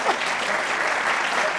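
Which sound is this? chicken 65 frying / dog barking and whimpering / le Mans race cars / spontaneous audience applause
spontaneous audience applause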